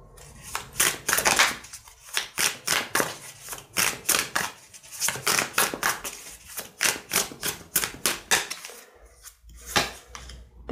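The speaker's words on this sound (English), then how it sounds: "Just want to make sure it's shuffled." Rapid, crisp tarot card shuffling in repeated bursts, riffles and snaps close up, with short pauses between rounds and no talking.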